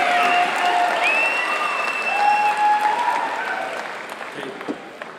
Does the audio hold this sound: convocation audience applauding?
yes